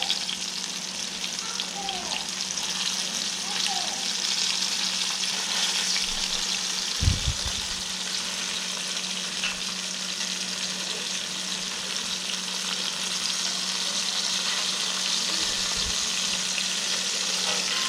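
Thin flounder fillets fry in a pan with a steady, close hiss and crackle of hot oil, interrupted by a couple of low thumps.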